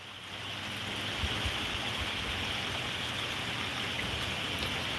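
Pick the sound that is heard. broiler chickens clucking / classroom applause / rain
rain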